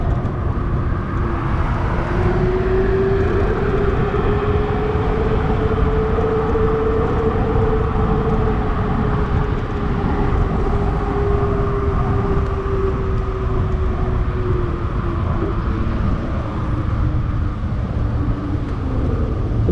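Onyx RCR electric bike climbing a hill in traffic, a steady whining motor tone rising and sliding slowly over a constant rush of wind and road noise, close and continuous throughout.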